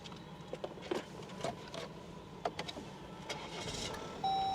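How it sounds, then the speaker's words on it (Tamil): Jeep Meridian diesel engine starting with a light clatter, heard faintly from inside the cabin. A few soft clicks and taps come before the engine catches and settles into a low, steady hum. "இந்த டீசலோட ஒரு சின்ன கிளாட்டரில் வந்து ஸ்டார்ட் ஆகுது"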